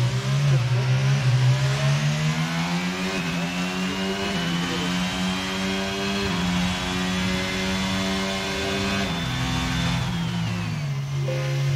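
Racing car engines in a Bahrain Grand Prix racing video game: a continuous loud mid-pitched engine whine with shifting revs and rising pitch, steady throughout with no talk.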